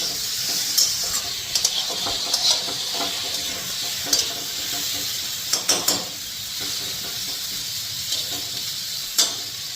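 Vegetables sizzle and hiss steadily in a pan, with occasional sharp clicks and scrapes of stirring scattered across the sound.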